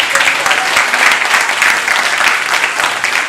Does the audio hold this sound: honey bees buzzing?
no